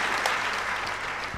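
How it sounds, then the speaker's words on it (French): A church congregation claps loudly and steadily, a dense wash of many hands filling the room without pause. "On applaudit très fort"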